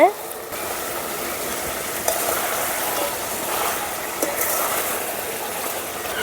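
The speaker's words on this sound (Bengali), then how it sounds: "একদম কষা কষা করে নেব বন্ধুরা দেখেন কত সুন্দর কষে গেছে" Chicken legs being stir-fried down in thick masala make a loud, continuous close-up sizzle, with a spoon stirring and scraping through it and no voices.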